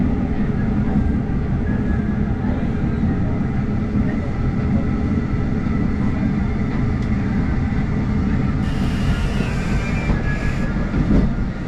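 A train rolls steadily along the rails toward Mostar, Bosnia, with a constant loud rumble and faint rhythmic clatter, heard from inside the carriage.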